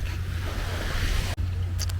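Sea surf washes steadily onto a crowded beach near the Burj Al Arab, a dense broadband rush with wind buffeting the microphone and one brief dropout near the middle, no talking.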